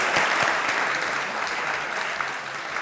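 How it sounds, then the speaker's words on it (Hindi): A studio audience at a television talk show breaks into sustained applause, a dense, even wash of many hands clapping close and loud throughout. "तालियां हो जाए एक बार फिर"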